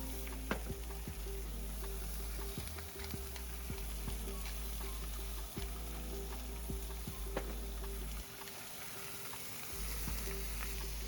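Pork cutlets searing in a pan make a steady, close sizzle and crackle that runs alone the whole way. A few sharp ticks and clacks sit on top, and a low hum fades out briefly near the end.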